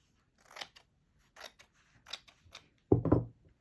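Scissors cut fabric for a dress pocket, giving several close, crisp snips in an irregular rhythm, with a louder double snip near the end and quiet pauses between cuts.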